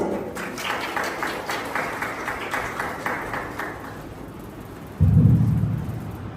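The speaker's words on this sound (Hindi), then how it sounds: "आइए उनका तालियों के साथ स्वागत करें।" Audience applause at a school NCC and physical education event, a steady dense clapping roll for about four seconds that then fades, followed by a louder low rumbling burst near the end.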